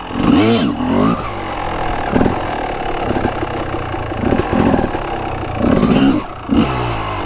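A Honda CR250 two-stroke dirt bike engine sputters close by, struggling to hold a low idle, with an uneven burble broken by repeated sharp throttle blips and revs.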